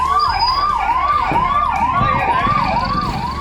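Wailing siren from a fire engine, one of seven responding to a factory fire, rising and falling steadily in repeated sweeps, loud and close over low road rumble.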